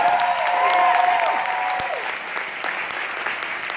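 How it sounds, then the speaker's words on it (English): A seminar audience applauds its presenters, a dense, sustained wash of many hands clapping at once, loud and steady, with a high tonal whine and some voices mixed in early on. "I want you to give a round of applause to all the presenters"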